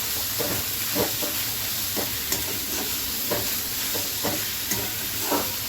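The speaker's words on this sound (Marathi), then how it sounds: "आता याला चांगलं आहे ना परतवून घेऊ, चांगलं मिक्स करून घेऊ." Paneer bhurji being stirred and sautéed in a pan: a steady sizzle and hiss runs throughout, broken by regular scraping strokes of a spoon about every second, close up, with no talking.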